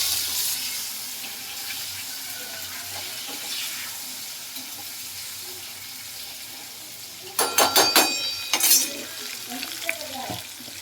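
Cumin, curry leaves, turmeric and okra sizzle in hot oil with a continuous crackling hiss, broken near the end by a cluster of loud clattering bursts.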